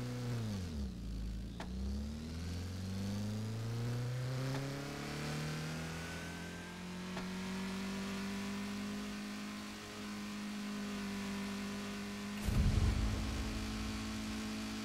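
Car engine accelerating along a highway in the Roblox Driving Simulator game, rising steadily in pitch as it gains speed, with a loud burst near the end.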